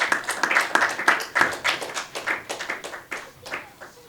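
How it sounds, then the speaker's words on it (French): Audience clapping for a candidate at a gathering, a fairly close group of hands clapping in uneven bursts that gradually thin out and fade toward the end. "Est-ce qu'on peut applaudir pour notre candidat"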